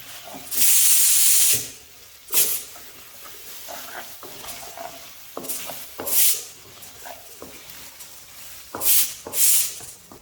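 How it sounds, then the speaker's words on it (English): Coriander powder sautés in a pan for mutton biryani, with loud bursts of sizzling and hissing recurring every second or two between quieter scraping stirs, close and without talk. "Now we will saute it a little bit."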